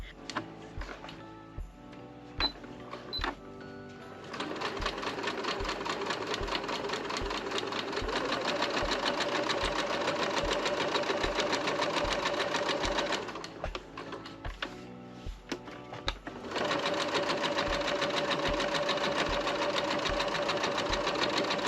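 A sewing machine stitches two fabric Christmas ornament pieces together, running in long steady bursts of rapid needle clatter with a short pause partway through, close and clear with no talking.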